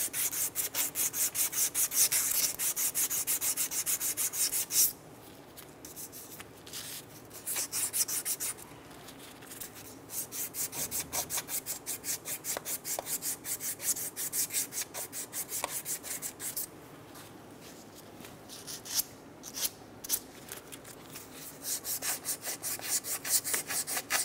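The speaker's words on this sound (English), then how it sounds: "take a piece of emery cloth and go around and clean up those spots" Emery cloth rubs back and forth over the wheel hub spindle of a 2003-2007 Honda Accord, a close, steady scraping in repeated strokes with brief pauses between passes.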